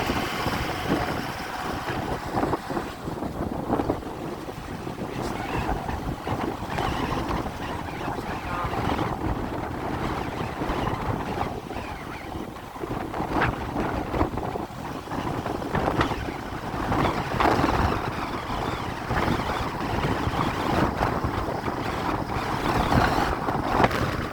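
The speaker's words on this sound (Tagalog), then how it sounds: "Grabe guys, ang lakas ng hangin" Strong wind buffets the microphone outdoors near a rest house in the Filipino provinces, a steady, loud roaring gust noise running the whole time with no break.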